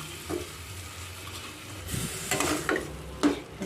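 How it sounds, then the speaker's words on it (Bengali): Spices and boiled shrimp sizzle softly in a pan over low heat while a utensil scrapes and stirs in a few distinct strokes, fairly quiet and close. "ভালো করে মেশাবো গ্যাসের আঁচটা কিন্তু লোতেই থাকবে"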